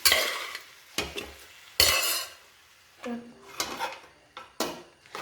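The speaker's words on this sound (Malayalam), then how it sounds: "അത് ഈ മസാലയിലോട്ട് നല്ല ഇളക്കി കൊടുക്കുന്നു" Cooked mutton intestines are stirred into a thick masala in a pan for a Kerala-style fry, with a handful of distinct, fairly loud scrapes and knocks of a spoon against the pan over a faint sizzle.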